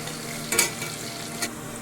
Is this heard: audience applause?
no